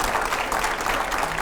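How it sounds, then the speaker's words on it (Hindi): A studio audience at a Hindi political interview show breaks into applause, a dense wash of clapping that stays loud and even through the short moment. "इसमें जोरदार तालियां हो जाए जरा"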